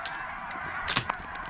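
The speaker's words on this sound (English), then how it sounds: "that was so many geese" A large flock of geese honks continuously during a Wyoming duck hunt, many overlapping calls at moderate distance with a few louder honks standing out, no talk.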